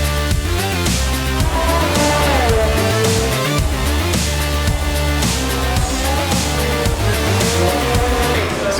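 Race car engines in the F1 2019 video game scream loudly and continuously, climbing and falling in pitch through gear changes, with bursts of tyre squeal and skidding while driven on a direct-drive wheel.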